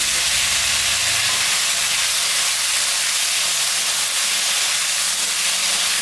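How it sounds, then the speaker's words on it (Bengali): Potato and eggplant pieces frying in hot oil, a dense, loud, continuous hiss and sizzle heard up close with a faint low rumble beneath at the start. "এখন আমি আলু আর বেগুনটা ভাজা ভাজা করে দেবো।"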